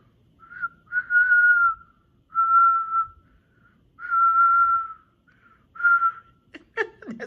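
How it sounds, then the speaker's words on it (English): A person whistles a series of held, wavering notes at one pitch, with short pauses between them, close and clear, ending in a few quick chirps. "Learn how to whistle"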